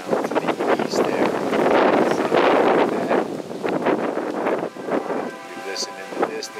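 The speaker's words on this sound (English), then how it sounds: "A breezy morning, chilling around to the east there." Breezy January morning wind buffets the microphone outdoors, a loud, continuous gusty rush with rustling surges throughout.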